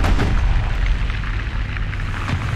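Tank cannon fire in War Thunder from an AB 41 armored car in ground battle, with a heavy booming blast at the start followed by a rumbling, explosive tail and a second softer report near the end.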